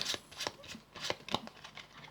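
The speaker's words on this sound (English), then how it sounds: "you're going to give it a shuffle. So what you're going to do is shuffle cards off the top" Playing cards being shuffled off the top of a deck, a quick series of soft riffling flicks in uneven bursts, close and quiet.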